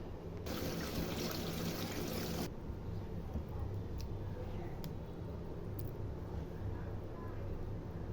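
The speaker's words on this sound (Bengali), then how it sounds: "এখন আমি এখানে অল্প অল্প করে পানি দিয়ে ব্যাটারটা তৈরি করবো" Water trickled little by little into a bowl of mixed ground spices to make a batter: a short, steady pour for about two seconds, then quiet mixing noises and a few faint clinks.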